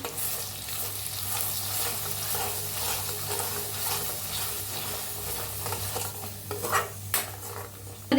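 Masala paste frying in a spoonful of hot oil in a pan while being stirred, a steady sizzle with scraping of the spoon running throughout, close and fairly loud, no talking.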